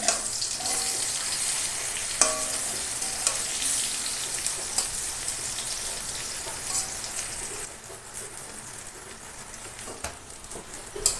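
Freshly flipped pumpkin flower fritters keep frying in oil, giving a continuous close crackling sizzle with a few sharper pops, easing slightly toward the end, with no talking.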